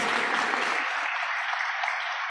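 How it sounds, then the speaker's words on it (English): An audience applauds at the annual Chicago Woman of the Year awards ceremony, a dense, steady wash of clapping that thins slightly partway through and carries on without voices. "please, a round of applause for Nellie and her work"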